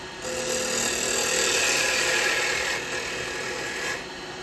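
A woodturning tool cleans up the top of a spinning yew lidded pot with a tenon, making a steady scraping, rasping hiss that swells briefly and eases, close and alone.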